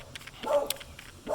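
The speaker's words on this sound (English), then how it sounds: "that's my Beagle" A beagle barks a couple of short times indoors, moderately loud and fairly close, with no talk over it.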